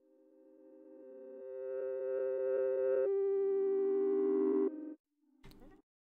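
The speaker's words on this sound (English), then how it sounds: "if you press it twice, it'll actually stretch out the sound, and then you can reverse it" A stretched and reversed glitch sound texture forms sustained synthetic tones that swell, pulse and rise in pitch, then cut off abruptly into a few short stuttering fragments, fairly quiet with no voices.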